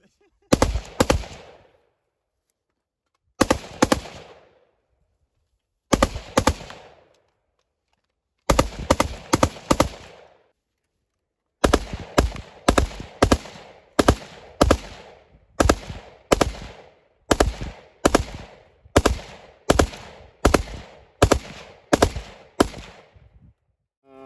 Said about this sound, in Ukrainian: Кулемет Калашникова модернізований